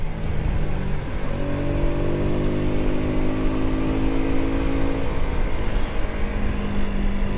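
A 125cc motorcycle rides along a country road at an unhurried pace, its engine humming steadily under constant wind rush, with a slight rise in pitch partway through.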